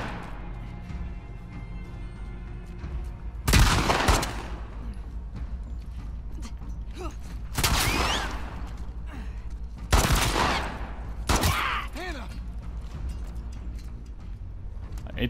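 Enemy gunfire in The Last of Us Part II, with several loud bursts of rapid shots and crashing impacts at irregular intervals over a quieter background, and voices speaking between the volleys.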